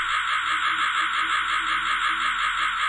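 In the video game Rusty Lake: Hotel a raven keeps cawing, a rough, grating call that stays loud and steady for the full stretch with no pauses.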